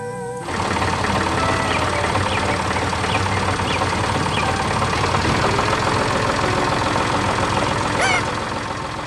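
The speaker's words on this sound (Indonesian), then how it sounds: "Dengan suara mesin yang tenang, traktor itu menggerakkan tanah dan menanam kehidupan baru." A yellow tractor's engine runs steadily at a constant idle-like throb, loud and close, with a rhythmic mechanical chatter continuing throughout and no talking.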